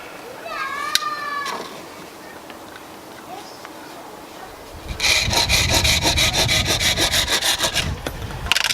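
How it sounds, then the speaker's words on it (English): Knife sawing through the end of a wooden stick for a bushcraft pot hanger, a rapid rhythmic rasping after a quiet stretch with a brief voice and birdsong, close and fairly loud. "So now I've just got to cut this end off a bit and sharpen that up."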